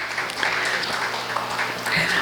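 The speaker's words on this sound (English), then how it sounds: "can we have a round of applause for Mr." A panel discussion audience claps for a panelist, a dense, moderately loud patter of hands that stays steady with a few sharper claps standing out.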